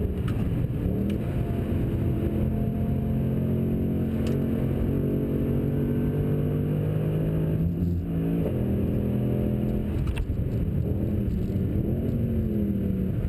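Engine of a 2013 Mercedes-Benz C63 AMG Coupe Black Series on a fast race lap, a loud continuous in-car drone with rising and falling revs, brief dips at shifts and lifts, no voices.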